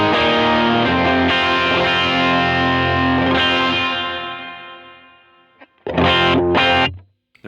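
Electric guitar through a Helix stereo patch with drive and reverb, strummed distorted rhythm chords ringing out and decaying into a reverb tail, then a couple of sharp muted chord stabs; close and full, with no talking over it.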